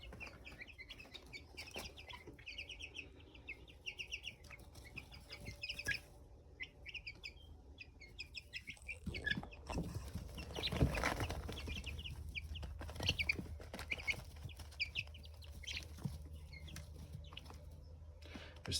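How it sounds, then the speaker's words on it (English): American breast meat chickens in a flock, with repeated clucks and soft calls close by, some overlapping, over a low background hum. "These are American breast chickens."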